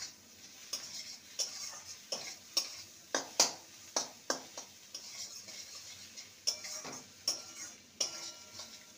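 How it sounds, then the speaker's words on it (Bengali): Egg masala being stirred in a pan, with a run of sharp, quiet scrapes and taps of a spoon against the metal in an irregular rhythm, a faint sizzle underneath and no talking. "ভালো করে নেড়ে নেব।"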